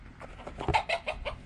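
A rooster clucks near the listener, a quick run of short throaty clucks that grow louder midway and then trail off.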